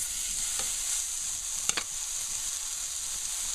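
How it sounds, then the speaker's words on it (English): A beef hamburger patty sizzles in a very hot pan with a steady, close frying hiss, broken by a couple of brief clicks of utensil contact. "Now I'll be cooking the hamburger."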